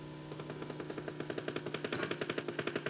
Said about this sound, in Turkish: Bana neden sıkıyorsun